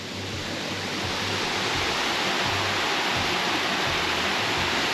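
Water rushes down natural rock flume slides in the White Mountain National Forest, a dense, steady roar that swells in the opening moment and then holds, close and loud, with no voices.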